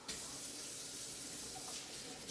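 Steady tap water runs into a kitchen sink while hands are washed, a continuous broadband hiss that holds evenly from start to finish with no voices over it.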